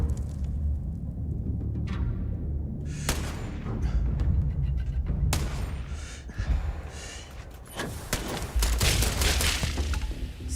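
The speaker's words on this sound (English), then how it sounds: "Don't you throw that grenade!" A grenade blast and scattered gunfire in the Starfield video game, several sharp loud bangs spread across the stretch over a rumbling game background, with a short breathy vocal sound among them.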